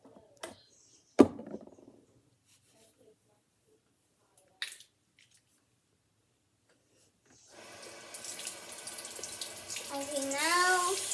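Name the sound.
washing squishy toys with soap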